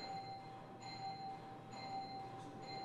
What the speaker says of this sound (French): c'est les cloches